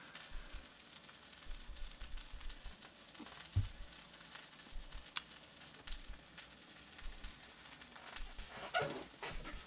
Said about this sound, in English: Can you guys hear the sizzle right now?